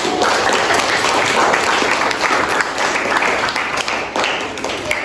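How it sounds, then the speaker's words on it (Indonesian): A class of junior high school students applauds during a lesson, dense steady clapping sustained throughout, with faint voices mixed in. "Oke, tepuk tangan dulu."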